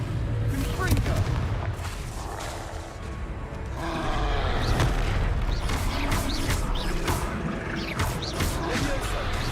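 Fire-spell blasts in the video game Hogwarts Legacy, a run of loud booming bursts and roars over dense battle noise, with voices shouting throughout.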